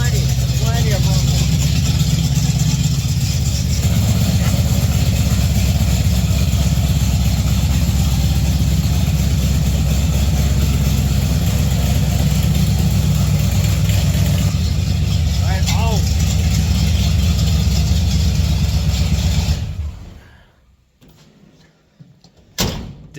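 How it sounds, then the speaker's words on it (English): A 1959 GMC pickup engine idles steadily through a new 3-inch exhaust with small eBay mufflers, giving a continuous low rumble that holds for about twenty seconds before cutting out abruptly. "I like the way those little eBay mufflers sound."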